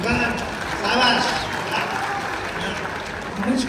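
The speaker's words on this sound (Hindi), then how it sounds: "एक बार जरा खोल के तालियां बजा देते हैं" An audience at a Kavi Sammelan poetry gathering at the Azamgarh Mahotsav claps in a sustained burst of applause that swells and eases, with a voice speaking over part of it.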